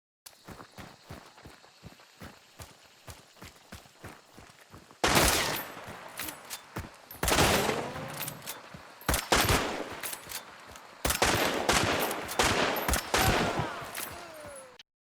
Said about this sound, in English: you'll notice that in between taking shots, I swerve to avoid the return fire.